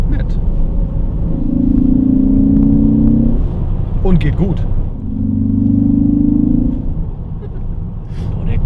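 A Ford Focus ST with a new stainless steel exhaust revs in two long, loud bursts of deep droning roar, settling back to a rumbling idle in between while someone speaks briefly.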